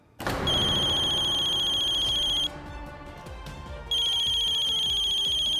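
A telephone rings with a loud, close electronic ringtone in a TV drama scene, playing two sustained bursts separated by a short gap, with no talk.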